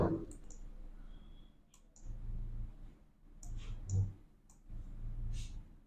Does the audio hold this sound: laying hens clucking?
no